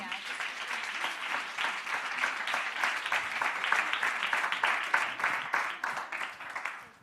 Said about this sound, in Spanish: Un aplauso a ti.